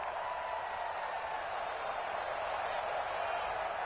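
A crowd cheers in a football video game after the home defense holds on the opening drive, producing a dense, steady roar of cheering and clapping throughout with no break or rise.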